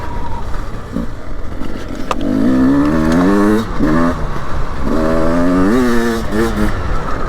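A 2024 Beta 300 Race Edition two-stroke dirt bike on a cold 22°F ride, engine rising and falling in repeated revving sweeps, close and loud throughout with rough wind buffeting.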